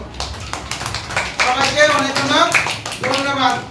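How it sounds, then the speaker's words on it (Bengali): Students in a classroom break into a short burst of clapping, with children's voices rising over and after the claps. "আমরা মামুনাদের একটা তালি দেবো"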